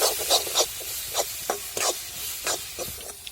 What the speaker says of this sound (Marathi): आपण लगेच जी पेस्ट बनवून घेतलेली होती ना ती आपल्या त्याच्यात परतून घ्यायची